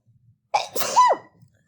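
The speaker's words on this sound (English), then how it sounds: "Oh, I sneezed." A single loud sneeze, close up, with a quick intake and a sharp burst, then silence.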